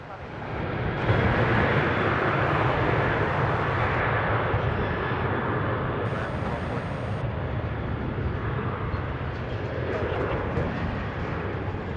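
American Airlines jet taking off from runway 17 at DFW International Airport, a loud sustained engine roar swelling in and holding steady, with faint radio chatter underneath.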